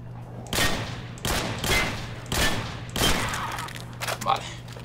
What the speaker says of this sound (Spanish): La TAR 21. Vale, de Modern Warfare 2. Bastante bonita, la verdad. Suena igual, o casi igual